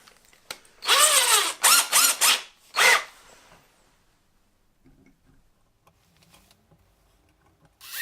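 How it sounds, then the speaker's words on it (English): A power drill whines in a few short, rising bursts as it bores a pilot hole into antler, then falls quiet apart from faint handling sounds. "I'm going to do a pilot drill."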